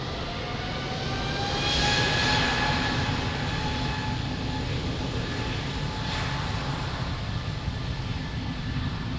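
A jet airliner takes off from runway 02 at Lisbon Airport, its engines roaring in a loud, sustained broadband rumble with a whining tone that swells briefly and then holds steady at a distance.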